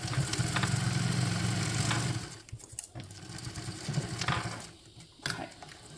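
Sewing machine running a quarter-inch seam, a steady close motor hum with rapid needle stitching for about two seconds, then shorter stop-start bursts and quieter handling sounds.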